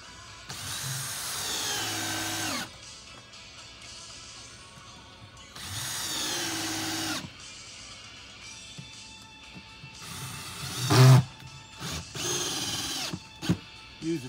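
A power drill driving screws with a T25 bit whirs in two steady bursts of a few seconds each, close and fairly loud, followed by a brief third run with a clack of handling.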